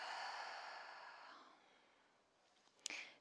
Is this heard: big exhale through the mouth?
yes